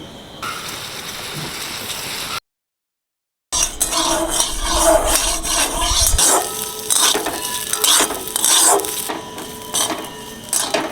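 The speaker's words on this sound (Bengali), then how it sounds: "নারকেলটা ভেজে নেব" Grated coconut fries in a pan: a steady hiss, a brief silent break, then busier sizzling with repeated clattering scrapes of a spoon against the metal, close and loud.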